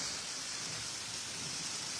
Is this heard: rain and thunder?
yes